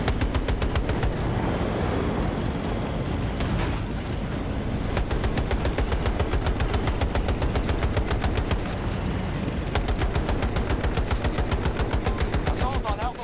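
Rapid automatic gunfire from a video game battle with tanks and a helicopter, dense bursts of machine-gun fire running nearly nonstop, loud and close, with some voice underneath.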